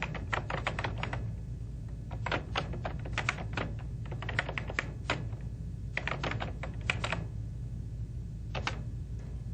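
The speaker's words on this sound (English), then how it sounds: "start with a new document and simply type in some text." Typing text into a new word-processor document on a computer keyboard: bursts of rapid, close keystroke clicks with short pauses between runs, over a steady low hum.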